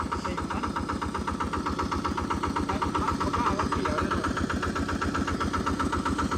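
A hand-started small engine idles close by with a steady, rapid thumping rhythm, loud and continuous for the whole stretch, with no talking over it.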